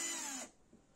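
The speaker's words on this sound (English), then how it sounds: "now you are going to drill this, it's gonna come out" A power drill bores into wood during a carpentry project, a brief high whir that cuts off abruptly after half a second, leaving quiet background.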